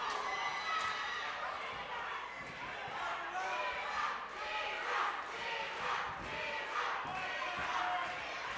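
An arena crowd at a boxing match chants for Jorge Brito in loud, rhythmic swells, a dense roar of many voices rising and falling throughout.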